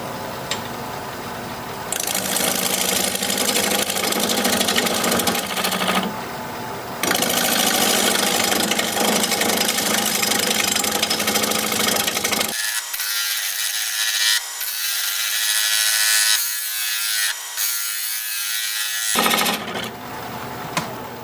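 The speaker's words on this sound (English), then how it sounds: "I am going to start rounding up this top." A wood lathe spins a piece of wood while a tool rounds its top, a loud steady whir with rasping cutting noise that thins out in the middle, then returns.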